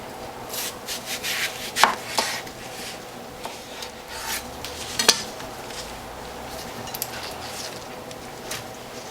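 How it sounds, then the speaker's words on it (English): A knife slices a whole cantaloupe into wedges, seeds and all, on a cutting board for juicing: irregular close cuts and scraping rubs with a few sharper chops, moderately loud and alone, no talk. "So I'm going to slice this, seeds and all, into wedges"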